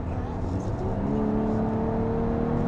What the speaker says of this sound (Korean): 이런 소리가 나면서 좀 그냥 평범한 가속을 하고 있죠